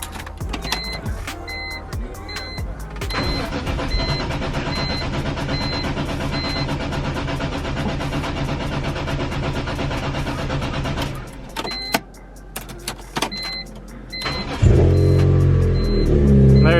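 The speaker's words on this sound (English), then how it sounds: "try starting the car" A BMW E46 M3 cranks repeatedly after a fuel filter and regulator replacement, a long steady whirring starter with chiming warning tones, then the engine catches and settles into a deep idle near the end.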